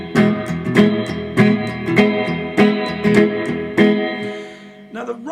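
Guitar playing a rhythm, a fast steam-train pattern with a strong sixteen-beat feel and accented offbeats: steady muted chugging strums with regular sharp accents, loud and close, ending with a brief slide.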